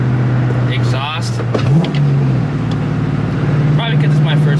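A 2004 Ford Mustang GT V8 with a new Borla ATAK exhaust burbles at a steady low idle, rising into a short rev midway before settling back, while someone talks over it close by.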